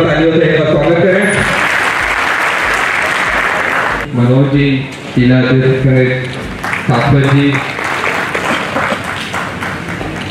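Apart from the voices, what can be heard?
crowd applause welcoming guests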